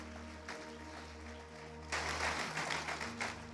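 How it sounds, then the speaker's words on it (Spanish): A church congregation bursts into applause during a Spanish-language sermon, a broad wash of clapping that swells partway through and continues over a steady low hum. "denle un aplauso al Señor"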